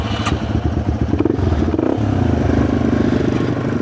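A motorcycle engine fires up and settles into a loud, steady idle with rhythmic chugging and some mechanical clatter, close by with no talking.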